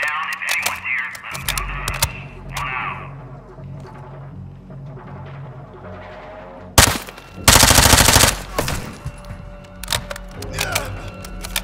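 Automatic weapon fire in the Modern Warfare II campaign mission, a loud burst of rapid shots followed by a longer sustained volley, with quieter ambient game sounds and voices talking before and after.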